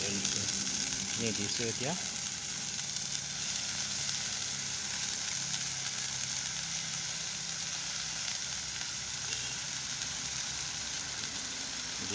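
Washed sheuli (night jasmine) flowers fry in a pan, giving a steady, quiet sizzle that runs throughout, with brief utensil clinks and a short spoken remark near the start.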